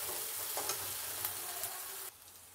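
Finely chopped onions frying with cumin and asafoetida in hot oil, a dense close sizzle with faint stirring, dropping suddenly to a quieter hiss near the end.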